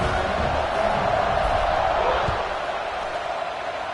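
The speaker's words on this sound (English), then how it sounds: "this crowd is feeling themselves after that last drive" A stadium crowd roars in the College Football 26 video game, a broad, constant cheering din with the murmur of voices mixed in.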